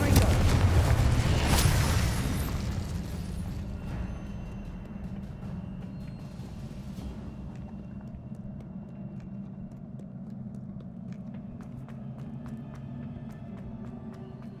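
In the game Hogwarts Legacy, a Confringo spell goes off in a loud, booming blast that rumbles and fades over a couple of seconds into a low lingering ambient hum.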